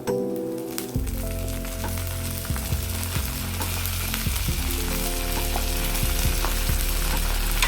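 Curry leaves drop into hot oil for raw mango pulihora and set off a sudden loud, crackling sizzle. The spitting then continues steadily, close by, with small pops and stirring scrapes.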